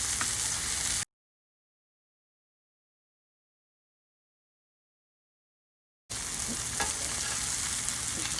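Salmon and tomatoes seasoned with black pepper and chili oil fry in a cast iron skillet, giving a loud, close, steady sizzle that cuts out to silence for several seconds and then resumes just as strongly.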